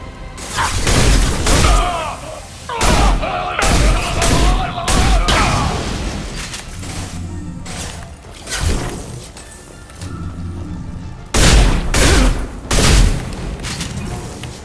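Gunfire and heavy explosions from the Mass Effect 2 finale battle come in loud repeated booming bursts and rattling volleys, with brief quieter lulls between and little talk.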